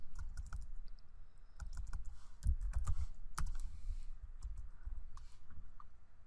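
Typing a network router command on a computer keyboard, quick irregular bursts of close, crisp key clicks with short pauses, alone with no talk.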